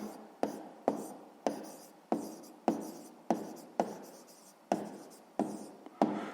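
A pen writes on paper during a sixth-grade math exercise, a close, quiet series of about a dozen sharp strokes at a steady rhythm, each fading quickly.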